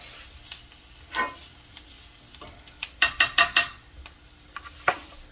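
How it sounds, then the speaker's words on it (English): A pork chop frying in a pan with chopped onions, giving a soft background sizzle broken by a run of sharp spatters and pops, close and moderately loud, with no voices. "I'm gonna fry up a pork chop in there."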